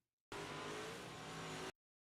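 A race car engine roars steadily at high revs in a single loud burst of about one and a half seconds during a short-track event, then cuts off abruptly.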